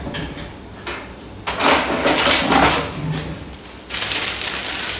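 A kitchen drawer is pulled open and a spoon is fished out, giving a few close, rattling, sliding bursts with short pauses between them.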